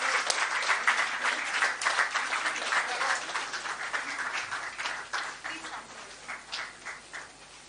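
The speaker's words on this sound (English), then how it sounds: "A big round of applause for our partners." An audience at a skill center inauguration breaks into loud, dense applause, the clapping gradually thinning and fading toward the end, with a voice speaking over part of it.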